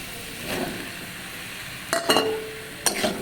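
Soybean curry being stir-fried in a pan, with a soft low sizzle under a few sharp clinks and scrapes of a utensil against the metal.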